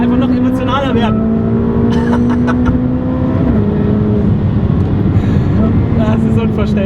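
A Ferrari F8 Tributo's engine drones loudly from inside the car, its pitch climbing and then dropping abruptly at quick gear shifts, while someone talks over it throughout.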